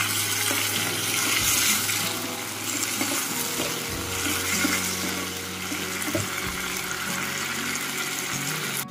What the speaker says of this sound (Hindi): इसको थोड़ा सा चला लेते हैं एंड हल्का सा पानी ऐड करते हैं ताकि मसाला जो है इकट्ठा हो जाए।